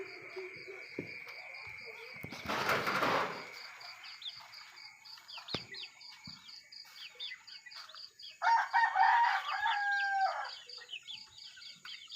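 A rooster crows twice at close range, one burst early and a longer call near the end. Between the crows come softer clucks, faint crickets and a few clicks in a quiet rural setting.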